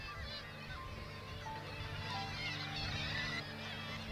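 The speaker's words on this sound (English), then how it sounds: "we have the kittiwakes that you can hear behind us" Faint, distant kittiwakes calling in overlapping bursts, a busy sea cliff colony at Bempton Cliffs, Yorkshire, heard under steady wind and low rumble.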